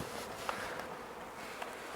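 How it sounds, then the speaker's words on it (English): Honeybees buzz steadily throughout a hive inspection as a nucleus colony is moved into a full hive, a soft, continuous drone close by with faint knocks and no talking. "move these bees around"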